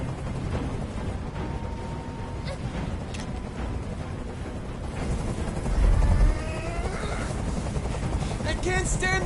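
A helicopter hovers overhead in the video game Detroit: Become Human, a steady loud rotor rumble that holds throughout with a heavier swell midway, while voices and other game sounds play over it.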